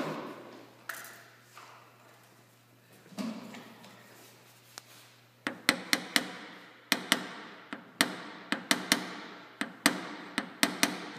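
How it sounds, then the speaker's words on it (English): Plastic tapper knocking down high spots in a dented car hood during paintless dent repair, a run of sharp, close taps in an uneven rhythm over a faint background hum, a few scattered knocks first and then denser tapping. "You go back and forth, going highs, tapping the highs, and putting out the lows"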